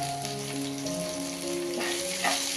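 Cumin seeds hit hot oil and sizzle at once, a bright continuous frying hiss with light crackle, close and fairly loud, while a steady tonal hum runs underneath.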